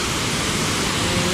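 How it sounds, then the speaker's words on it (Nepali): Baspani waterfall pours in a dense, steady roar, close and loud throughout with no voices. "This place, this beautiful waterfall."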